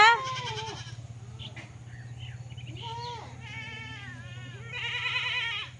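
Goats on a farm bleating repeatedly, several wavering close calls overlapping one another over a low steady hum, with no talk.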